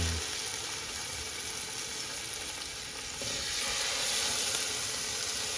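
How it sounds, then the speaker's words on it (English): Steelhead trout fillets sizzle skin side down in a hot pan, a steady dense frying hiss that swells slightly louder partway through, close and continuous with no talk over it. "If you can hear that sizzle, that's how you know your pan is hot."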